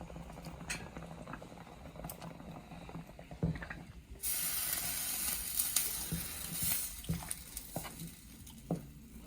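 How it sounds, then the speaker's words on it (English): Indo-Chinese hot and sour soup thickened with cornstarch, boiling in a pot: a sudden onset of steady bubbling hiss with small pops and spits, close and continuous, after quieter kitchen clatter. "And let them to boil 1 minute."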